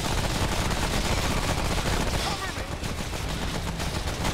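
Rapid, continuous submachine-gun fire in Remnant From The Ashes, a dense stream of shots that stays loud across the whole stretch with no real pause. Game noise is mixed in.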